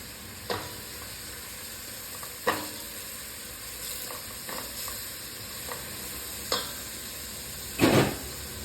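Garlic and ginger frying in a pan for butter chicken, a soft steady sizzle punctuated by a handful of sharp stirring clacks of utensil against pan, quiet and close.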